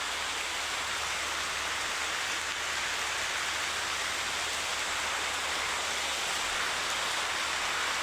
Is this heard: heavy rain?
yes